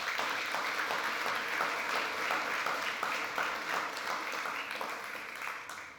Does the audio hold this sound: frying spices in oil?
no